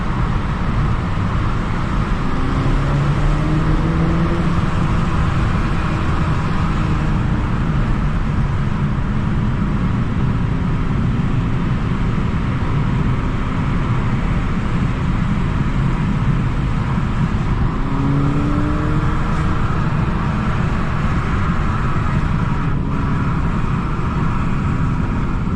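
A stock Toyota GR Supra drives through Tokyo streets, heard from inside the car as a continuous loud engine drone and road rumble with mild shifts in pitch as the car moves.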